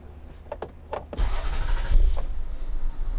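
A Toyota engine cranks briefly and catches, a few clicks followed by a quick churning start that settles into a steady low idle, close and alone.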